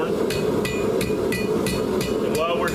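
Hammer blows ring on a hot iron finial held against an anvil horn while forging a drive hook, about seven evenly spaced sharp metallic strikes over a steady background hum.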